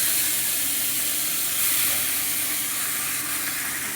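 Marinated chicken sizzles in hot oil in a heated wok, giving a loud, dense, continuous hiss that holds steady throughout with no talking.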